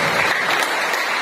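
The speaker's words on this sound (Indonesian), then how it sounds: "Kasih tepuk tangan kepada Tuhan" A church congregation applauds during a sermon, many hands clapping together in a dense, loud, steady burst that lasts about a second with no voices over it.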